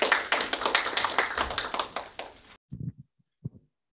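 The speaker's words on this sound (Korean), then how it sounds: "큰 박수로 맞아주시기 바랍니다" Audience applause welcoming a speaker to a talk on university innovation at Seoul National University's Siheung campus starts as brisk clapping, then stops abruptly, leaving a few scattered claps.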